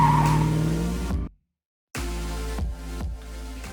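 BMW E90 drift car at a drift qualifying session in Calmont, a loud sustained tire screech and engine roar that cuts out briefly, then returns with rhythmic revving and squealing, fairly close.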